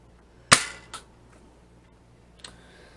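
A Nerf Elite Trio 2.0 foam dart blaster fires once with a sharp, close snap, followed by a softer click a moment later and another faint click near the end, with no talking.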